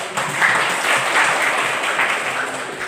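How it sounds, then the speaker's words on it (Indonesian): Students in a history classroom give a short round of applause, dense steady clapping from many hands close by, with no talk over it. "silakan berikan aplaus untuk"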